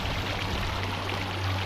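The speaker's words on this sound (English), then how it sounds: "it goes over the boiling hot creek of death" A boiling hot grey creek at Bumpass Hell in Lassen National Park rushes and gurgles in a steady, continuous wash, heard quietly from close by with a low hum underneath.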